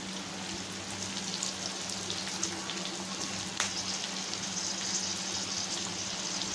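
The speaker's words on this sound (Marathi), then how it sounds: "याच प्रकारे आपण सर्व या भेंड्या अशा तळून घेणार आहोत मस्त क्रिस्पी" Okra pieces fry in hot oil until crispy, giving a soft, continuous, even hiss of bubbling oil throughout, moderately quiet, with no voices.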